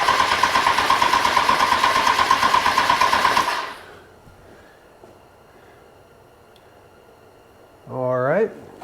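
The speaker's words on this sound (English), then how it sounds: "we're gonna go and crank it for about 5 seconds." A Kawasaki ZX10R sport motorcycle engine cranks on the starter, a steady loud whirring churn for about three and a half seconds, then quiet, followed by a brief rising tonal sound near the end.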